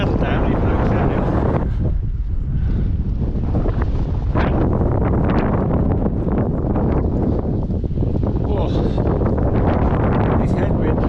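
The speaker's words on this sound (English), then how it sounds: "This headwind is really testing the limits now." A strong headwind buffets the microphone on a downhill bicycle ride along the Carretera Austral in Chile, a loud, continuous roaring rumble with gusty surges throughout, and a voice is heard speaking beneath it.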